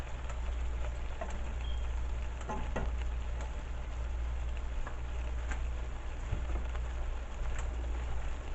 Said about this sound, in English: I'm gonna let this simmer in here for a hot minute